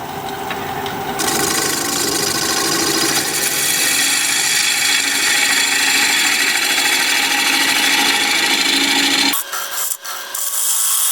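A wood turning tool is sharpened with a steady, loud grinding rasp that runs continuously for several seconds, then cuts off abruptly, followed by a couple of faint knocks.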